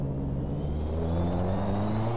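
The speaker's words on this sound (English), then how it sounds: "Did you hear that turbo?" A race car in the RaceRoom racing game drones past at a steady engine pitch, with a faint rising turbo whine above a low rumble.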